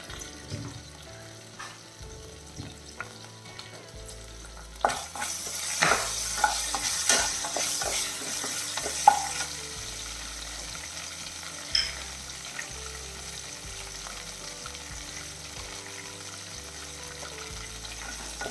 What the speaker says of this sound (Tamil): ഒരു മൂന്ന് ഏലക്ക മൂന്ന് ഗ്രാമ്പ് ഒരു ടീസ്പൂൺ സോമ്പ് ഇவ்வளவு சேர்த்து நம்ம நல்லா சூடு பண்ணிடலாம்